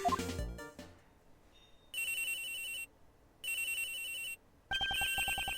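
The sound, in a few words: phone ringing in the video game Ace Attorney Investigations 2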